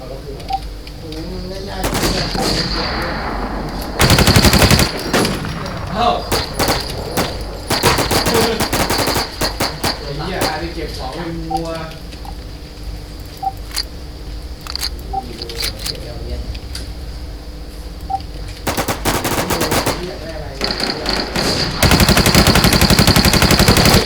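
Gunfire in the video game WarZ: repeated bursts of automatic fire and single shots cracking through the whole stretch, loud and close, with louder volleys near the start and end, while a player talks over much of it.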